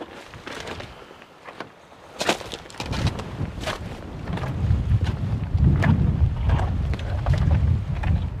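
Gusty wind buffets the microphone on an exposed coastal fishing mark along the Bristol Channel on a winter morning, rising from a lighter rush to a sustained low roar with occasional sharper gusts, no voices.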